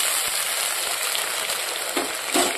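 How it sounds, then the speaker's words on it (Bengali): Meat frying in oil without spices, a steady broad sizzle holding close and moderately loud throughout, with a couple of brief stirring scrapes near the end. "মশলা ছাড়া মাংসটাকে আমি ভেজে নিচ্ছি"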